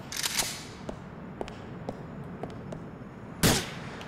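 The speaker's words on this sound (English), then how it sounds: "Who's shooting?" Gunshots ring out in Grand Theft Auto IV as a few sharp cracks, a cluster near the start and a louder one near the end, with faint ticks between them over a quiet background.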